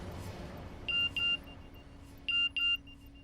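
Two pairs of short electronic beeps from a phone message notification sound at moderate volume over a quiet room hum, spaced about a second apart.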